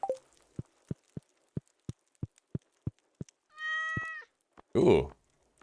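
A cat meows twice in the Stardew Valley video game, first as a clear tonal mew and then as a louder, rougher one, after a steady run of evenly spaced soft ticks.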